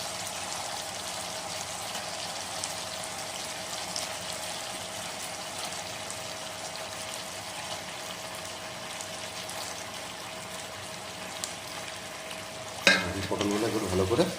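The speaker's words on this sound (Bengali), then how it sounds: "আর এখন দিয়ে নেবো ভেজে রাখা পটলগুলো।" Fried pointed gourd (potol) added to sizzling gravy in a pan for potol posto, a steady close sizzle throughout, then a sudden louder clatter and splash as the pieces drop in near the end.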